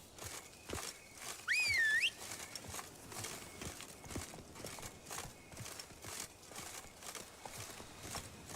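Roach, a horse in The Witcher 3, trots with a soft, regular clip-clop of hooves that repeats steadily. A brief whistle rises over the hoofbeats early on.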